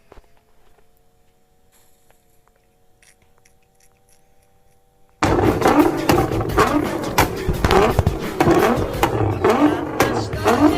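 A vehicle engine in the mobile shooter game Garena Free Fire: near silence for about five seconds, then a sudden loud, rough engine roar with revving surges and gritty rattling that continues to the end.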